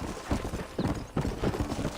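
Rhythmic clip-clop of horse hooves at a steady trot in Red Dead Redemption, close and clear, with faint ambient background and no talk.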